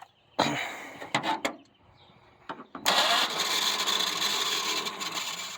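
A 1975 Ford Granada, long neglected, cranks in short bursts with pauses between attempts, then catches and runs with a rough, loud, steady roar to the end.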